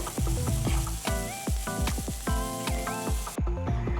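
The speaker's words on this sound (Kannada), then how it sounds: "ಇವಾಗ ಒಂದು ಮೀಡಿಯಂ ಸೈಜ್ ಈರುಳ್ಳಿನ ಚಿಕ್ಕದಾಗಿ ಕಟ್ ಮಾಡಿಕೊಂಡು ಹಾಕ್ಕೊಳ್ತಾ ಇದ್ದೀನಿ ಈರುಳ್ಳಿ ತುಂಬ ಚೆನ್ನಾಗಿ ಫ್ರೈ ಮಾಡಿಕೊಳ್ಬೇಕು" Finely chopped medium onion frying in a pan with curry leaves and chillies, a constant crackling sizzle punctuated by sharp metallic clinks of a spoon stirring against the pan, close and loud, no talk.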